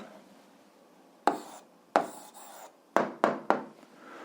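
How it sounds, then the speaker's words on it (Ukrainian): Pen strokes write down an answer during an eighth-grade algebra lesson: a quiet stretch, then five short scratchy bursts close by, with no talking. "записуємо відповідь, пишемо відповідь."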